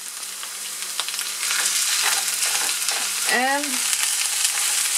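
Ground lamb for shepherd's pie frying in a pan, a constant close sizzle with stirring scrapes, and a brief spoken word near the end.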